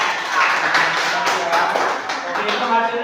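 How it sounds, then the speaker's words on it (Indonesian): Classroom of students clapping for a presenting group, a dense, fairly loud patter of many hands close by, continuous across the whole stretch with some voices mixed in. "tepuk tangan dulu buat kelompok 2"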